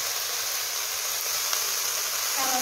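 Fenugreek (methi) leaves hitting sautéed tomatoes in a hot pan give a steady, close hiss and sizzle that stays even throughout, with no talk.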